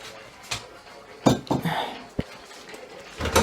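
Pieces of cod are added to a pan and stirred, with a few clattering knocks and scrapes of a utensil against the pan, moderately close and intermittent.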